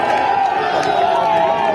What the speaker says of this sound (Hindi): जोरदार तालियां बजा के स्वागत करें देश के नेता आदरणीय दिनेश यादव जी का